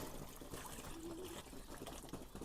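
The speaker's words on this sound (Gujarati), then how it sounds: "તો થોડું ઘણું પાણી આપણે એડ કરી દઈએ જેથી કરીને પી શકે." Water poured into a dish for pigeons, a soft continuous trickling splash at low level, close and steady with no voices.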